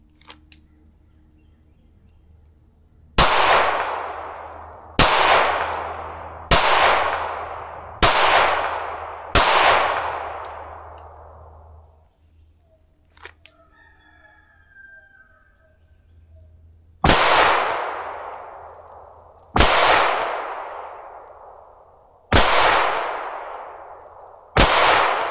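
A Staccato C2 Monsoon Tactical pistol with a Genghis Komp fires eight sharp, loud shots during sight-picture drills, five in quick succession and then three more spaced apart after a pause, each with a ringing outdoor decay.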